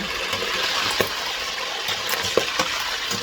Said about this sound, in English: check on the meat that I'm frying